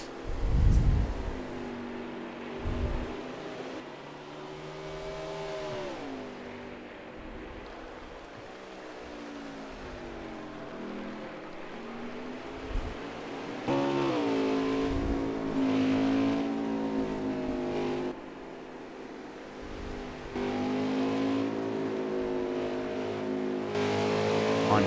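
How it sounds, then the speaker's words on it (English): Stock-style race cars in a racing video game at Road America, several engines droning and revving with rising and falling pitch as cars shift gears, steady and fairly loud with no talk. "Man, JP wrecking out right there in that 9 car."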